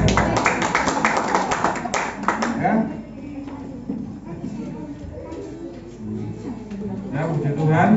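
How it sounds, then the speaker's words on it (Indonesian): Church congregation applause during a Sunday service, brisk rhythmic clapping for about two and a half seconds that then stops, followed by a speaking voice and murmuring from the room. "berikan tepuk tangan"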